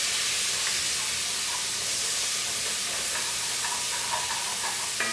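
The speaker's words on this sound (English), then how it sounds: "Now I'm going to add my onion. I'm going to stir this." Chopped onion sizzles in a pot with linguiça for caldo verde, producing a dense, continuous close hiss of frying with faint scraping from stirring mixed in, fairly loud and steady for the whole stretch.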